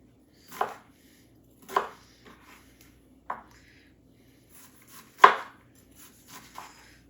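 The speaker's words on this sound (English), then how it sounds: "I'm going to cube up this cucumber" Knife cubing a cucumber on a cutting board, several distinct sharp chops at irregular intervals, close and clear with quiet gaps between.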